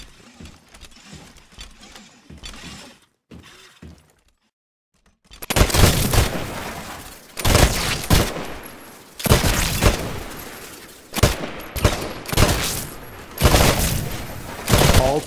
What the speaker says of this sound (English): Switch to your rifle. To take a more calculated shot, you can aim down the sights of your weapon.